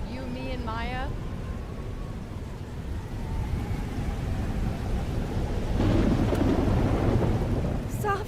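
A thunderstorm rumbles in the video game Life is Strange Double Exposure, with steady rain hiss and a swelling roll of thunder, while a voice speaks briefly at the start.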